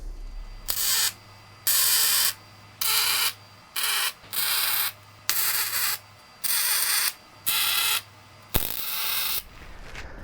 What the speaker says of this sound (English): we can weld all this big square together just to get some strength in there